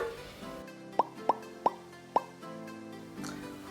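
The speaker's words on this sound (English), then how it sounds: "So we're just popping in these lemons, squishing them in there." Lemons pressed down into a glass vase for a summer centerpiece: four quick, hollow plopping knocks, close and distinct, in an uneven run over a soft room background.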